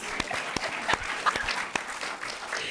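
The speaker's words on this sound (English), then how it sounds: "So give that a round of applause." Sustained applause from the audience at a school district Black History recognition and celebration, continuous crowd clapping with a few sharper individual claps standing out nearby.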